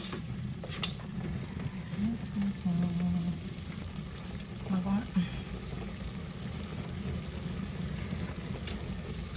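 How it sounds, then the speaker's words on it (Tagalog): Pork adobo sizzles in a pan as vinegar is added, a continuous close frying hiss with stirring, while a voice murmurs faintly underneath. "Lagyan na natin ng suka."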